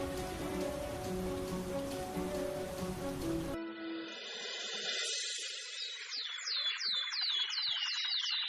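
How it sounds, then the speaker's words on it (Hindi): Heavy rain pours in a dense, steady hiss for a few seconds, then cuts away to bright, repeated bird chirps with no rain left. "कुछ दूर चलने पर ही जोर जोर से बारिश होने लगती है।"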